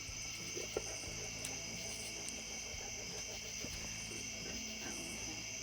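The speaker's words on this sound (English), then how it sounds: "They're just bugs." Insects chirp around a covered bridge in a steady, layered, high-pitched drone with faint ticks and bumps mixed in, heard alone and at a moderate distance.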